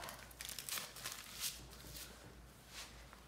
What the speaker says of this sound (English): Then we will fold this foil up